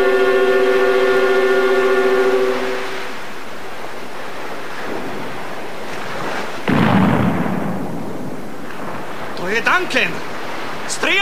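In a 1990 Slovak radio drama, a sustained horn-like tone gives way to a rushing, surf-like roar, then a sudden deep gunfire blast. Brief shouting voices follow near the end.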